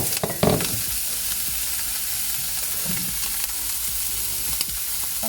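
Bacon fries in a pot with a loud, dense, continuous sizzle. A few clattering knocks come early, then the crackle stays steady and close with no speech.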